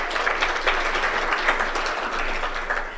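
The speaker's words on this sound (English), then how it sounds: "Why can't you clap for her?" Crowd at a Kenyan political gathering claps for Martha Karua, a steady, continuous roar of many hands, fairly loud and uninterrupted.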